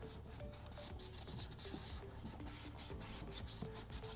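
Close rubbing and wiping around the gritty charge port of a Tesla Model 3, a steady scratchy scrubbing that continues for the whole stretch, near and fairly quiet with no talk.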